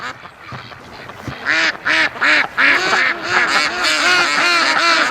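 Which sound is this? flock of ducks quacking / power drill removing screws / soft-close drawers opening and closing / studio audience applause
flock of ducks quacking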